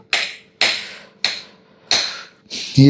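Fresh coconut being chopped into small pieces for a Kozhikode-style beach snack: four sharp, evenly spaced blade strikes about half a second apart, close and loud, followed by a heavier knock at the end.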